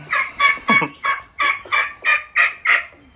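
Turkey calling in a barn stall, a run of about nine loud, evenly spaced gobbling clucks close by, with no talk over them.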